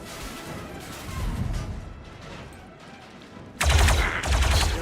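Gunfire in the video game Star Wars: Zero Company, scattered shots at first, then a loud close burst of heavy firing near the end.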